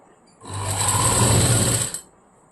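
An electric sewing machine stitches a blouse in one short, steady burst of rapid mechanical whirring, close and fairly loud, with quiet before and after.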